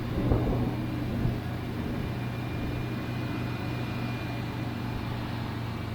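A Typhoon engine on its first start in over ten years runs steadily with a smooth, low rumble and a faint high whine, close by and with no talk.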